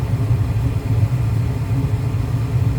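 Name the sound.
Lenox furnace motor running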